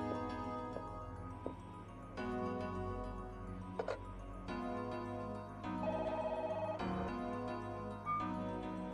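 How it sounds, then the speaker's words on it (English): An electronic telephone rings in the video game Parasite Eve, a high, thin trilling tone that sounds in short bursts over a loud, dense orchestral music track with no speech. "That was a phone there."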